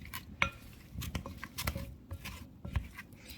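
Peeled russet potato wedges tossed into a pan, making a scatter of light clinks and taps as pieces drop and settle against the metal, quiet and close.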